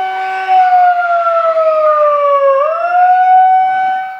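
Siren sounding during a flood disaster simulation at an elementary school in Cirebon, a loud wailing tone that glides down, then swings back up, close and alone for about four seconds.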